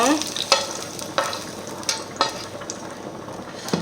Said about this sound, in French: notre purée de pommes de terre cuit tranquillement